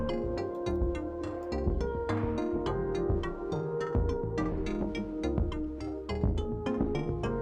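Full mix of the synth track from the Eastward soundtrack plays steadily, a dense layered arrangement with a pulsing beat, bass and bright synth marimba figures, no voices.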